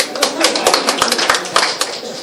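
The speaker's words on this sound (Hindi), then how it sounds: "तालियां" Applause at a mushaira poetry gathering, a short burst of loud, close hand claps with distinct sharp individual smacks, some voices audible alongside.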